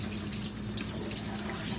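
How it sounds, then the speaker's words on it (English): Water running from a tap into a sink to rinse out a solar wax melter, a steady splashing flow with small irregular spatters, fairly close and unbroken throughout. "I'm going to turn on the water,"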